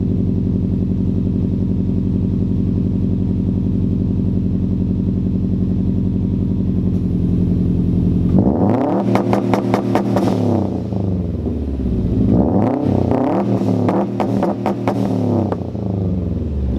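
A Subaru WRX STI engine idles with a steady, deep drone, then is revved hard in two rough, rising bursts, with a brief return to idle between them.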